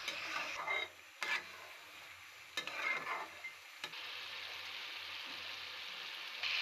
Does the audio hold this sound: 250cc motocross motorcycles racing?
no